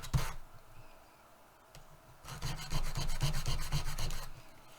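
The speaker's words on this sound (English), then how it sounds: "because it's wood, you can sandpaper it, and that's exactly what I'm going to do right now" Sandpaper rubs over a small wooden piece: a brief scrape, a pause, then a steady run of rapid, rhythmic rasping strokes close by.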